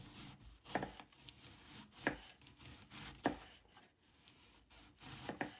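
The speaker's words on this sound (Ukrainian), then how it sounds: "Далі цибулю нарізаємо кільцями." A knife cutting an onion into rings on a board, for marinated mackerel: a slow series of separate, clear chopping knocks about a second apart, close by.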